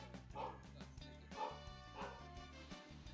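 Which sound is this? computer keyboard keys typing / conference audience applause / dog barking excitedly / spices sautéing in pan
dog barking excitedly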